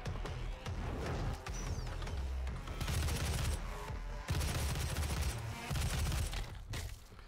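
Rapid gunfire bursts from the DOOM video game, dense crackling volleys with brief pauses between them, loud and continuous over heavy game effects.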